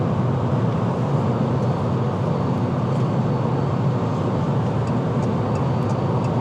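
A 2024 Fiat 500e electric car accelerating normally toward highway speed, heard from inside as a loud, steady broadband rush of road and wind noise with a low rumble and faint high whine, continuous and unbroken.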